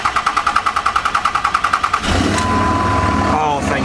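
An old restored generator engine cranks with a rapid, even chugging for about two seconds, then catches and settles into a steady, loud, close running drone.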